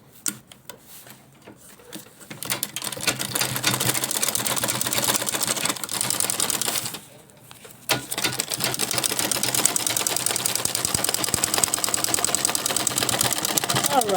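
A sewing machine stitches the seam of a fabric shopping bag, a fast steady mechanical rattle that runs loud for several seconds, pauses briefly, then resumes continuously.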